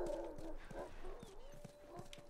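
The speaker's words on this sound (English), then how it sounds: "Is that a dog?" A dog barks in The Last of Us, several short barks spread through the moment, fairly faint and distant, with a voice talking over them.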